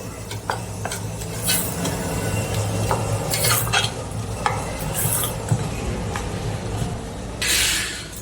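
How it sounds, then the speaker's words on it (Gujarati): Snack ingredients with salt and turmeric are mixed in a pot, producing close, fairly loud scraping and stirring strokes with several sharp swishes over a steady background and no one talking. "બધું મિક્સ કરી લઈશું આપણે."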